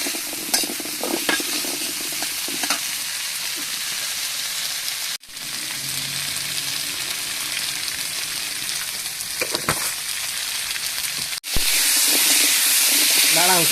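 Potatoes fry in oil with a loud, continuous sizzle while a utensil scrapes and stirs them in the pan, with brief pauses and a harsher, hissing burst near the end.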